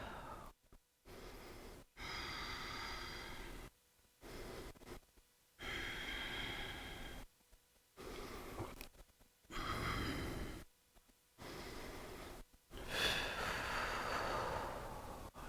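Slow deep breaths during a yoga pose, with several long, airy inhales and exhales separated by quiet pauses. The breaths are close and soft, with no talking.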